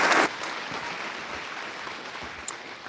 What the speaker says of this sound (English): Round of applause for Franny Everson.